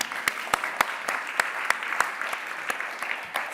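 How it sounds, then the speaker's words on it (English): Audience applause at an opening debate session, a steady wash of many hands clapping with a few sharp, distinct claps standing out at a fairly regular rhythm, moderately loud and without talking. "20 seconds more applause helps Corinne go from there to here."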